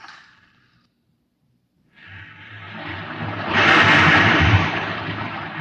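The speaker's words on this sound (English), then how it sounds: "You can hear the roaring of the gases in the test chamber behind me." A rocket reactor engine in a test chamber, rendered as a radio drama effect: after a brief fading noise and a pause, a deep roar of rushing gases builds steadily and swells loudly, holding near the end.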